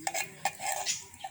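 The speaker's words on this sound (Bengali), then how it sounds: "একটু হেল্প করি সাবিয়ার, এবার নাড়া দাও" Food frying in a pan being stirred, with clinking scrapes of a utensil against the metal pan at an irregular rhythm, close and moderately loud.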